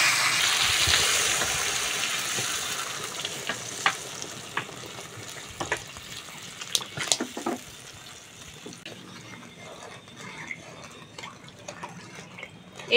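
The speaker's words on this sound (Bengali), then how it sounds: "এবার জল দিয়ে দেবো।" Water is poured into a sizzling pot of Bengali fish curry with ridge gourd and potato, giving a loud initial rush and hiss that fades into quieter bubbling, with scattered pops and clinks from the simmering pot.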